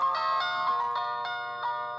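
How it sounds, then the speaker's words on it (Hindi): A mobile phone rings for a friend's call, playing a tonal electronic ringtone of repeated short melodic notes. It is fairly clear and steady, with no voices. "एक मिनट हो जीजा जी, मेरा दोस्त का फोन है।"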